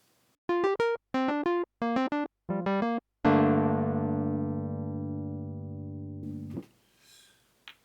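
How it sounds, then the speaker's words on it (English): A Scarbee Pianet electric piano, dry and unprocessed, plays several short staccato chords in a quick rhythm and then one long sustained chord that slowly decays before being cut off. Clean, close and alone. "So I'm starting with the Scarbee Pianet"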